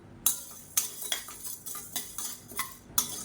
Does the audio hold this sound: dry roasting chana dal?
yes